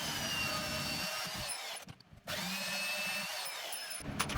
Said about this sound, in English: I've got this portable bandsaw.